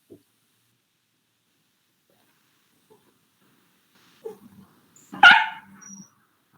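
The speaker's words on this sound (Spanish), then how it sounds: "mi perrito ya viene a hacer un escándalo" A small dog in a quiet room gives a few faint yips and whimpers, then one loud bark near the end that trails into softer whining, with long silent stretches before it.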